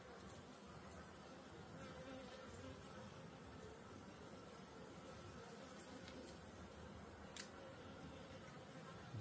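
Honey bees swarm in an open beehive during an inspection, producing a faint, steady, dense buzzing drone that continues throughout with no talking.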